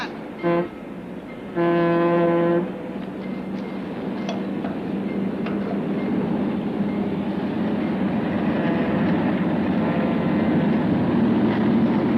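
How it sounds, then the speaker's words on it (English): A train rumbles steadily past, with loud blasts of its horn sounding early on, one short and one sustained, over continuous rail noise. "How'd you like that train running right through your living room?"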